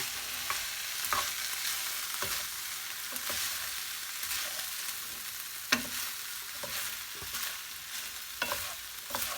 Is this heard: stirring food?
yes